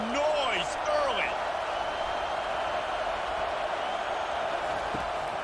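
Stadium crowd noise in EA College Football 25, a steady, loud roar of a packed college football crowd filling the whole stretch, with brief whistles and calls rising early.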